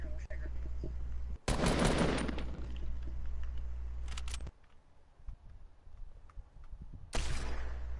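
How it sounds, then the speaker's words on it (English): Sharp bursts of gunfire from the video game Fortnite crack out in short clusters, loud at first and again near the end, with quieter game sounds between. "I almost sniped him with a hunting rifle"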